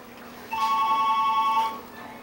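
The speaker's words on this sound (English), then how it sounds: "Is that Dada's phone?" A mobile phone rings indoors for about a second with a steady electronic ringtone pattern, clearly audible over a quiet room before fading out.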